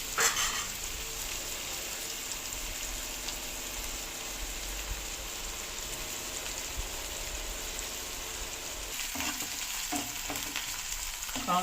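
Onions fry in a pan with green chilies in a Telugu home kitchen, a loud continuous sizzle that holds steady throughout, joined by a few scraping stirs near the end; no talking.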